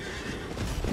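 Horse neighing as its rider is knocked off during combat in the video game Elden Ring: a short, loud whinny over a dense bed of game noise with a few hoof-like thuds near the end.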